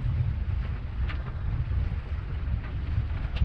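A sailboat moves under sail at about 4.5 knots, with steady wind buffeting and water rushing along the hull in a continuous low rumble, plus faint splashes now and then.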